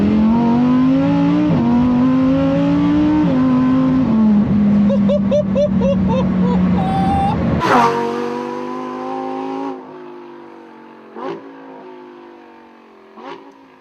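Lamborghini Huracan STO engine pulling hard through rising revs and upshifts, loud and close, then a sharp bark and the note dropping away into quieter burbles and pops.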